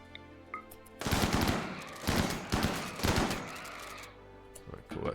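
Video game gunfire comes in several loud bursts of rapid machine-gun shots, each lasting about a second, with short pauses between them and faint game sounds around them.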